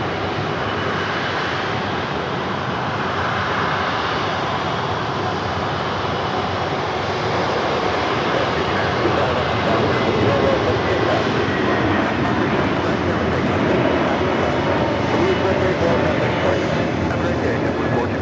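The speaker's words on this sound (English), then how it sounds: "This A330 delivered to Cebu Pacific in 2016." A Cebu Pacific Airbus A330 airliner passes at Los Angeles airport, its engines a loud, continuous broad roar that stays strong and even for the whole stretch.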